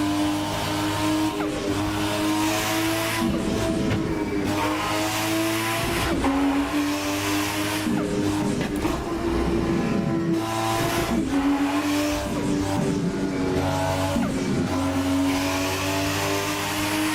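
A 1000HP+ car engine in the racing game Assetto Corsa roars loudly and continuously during highway driving, with repeated rising revs and gear-shift drops, plus some tire squeal. No voices.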